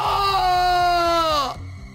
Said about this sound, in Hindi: उसका भयानक रूप देखकर विवेक डर गया और चिल्ला उठा।